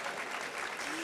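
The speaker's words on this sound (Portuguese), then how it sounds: "Aplausos para a nossa convidada." An audience at a toy-industry talk event applauds a guest, giving a brief, steady wash of clapping from many hands that sounds moderately distant.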